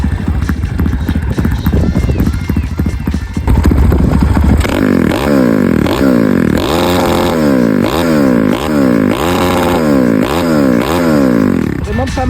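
A Zongshen 190cc dirt-bike engine in a Dax motorcycle fires up and runs loud and close, settling into a steady throbbing idle with rhythmic rising revs, mechanical clatter layered over the running engine.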